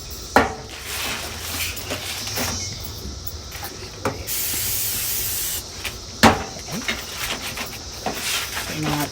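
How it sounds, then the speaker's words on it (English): A short, steady hiss of cooking spray from a can over pizza on a Blackstone flat grill, between clinks and knocks of utensils and pans, fairly close. "I'm going to spray it again."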